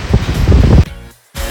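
Sea waves churn below a Carnival Venezia cruise ship balcony with strong wind buffeting the microphone, a loud rushing wash that drops away briefly before surging back.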